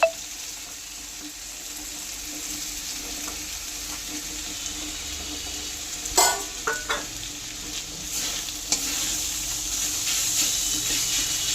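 Chhana is tipped into a pan of fried potatoes, giving a steady sizzle with a few scraping stirs and knocks partway through, then a fuller, louder frying hiss toward the end.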